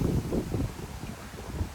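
Steady wind buffets the microphone, a low rumbling roar that swells and eases throughout.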